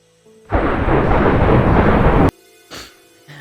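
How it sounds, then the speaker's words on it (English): Thunder in the Minecraft video game: one loud, sustained rumbling crash lasting about two seconds, ending abruptly, followed by quieter in-game ambience and a couple of faint brief sounds. "If I turn on thunder, is it just gonna be really noisy?"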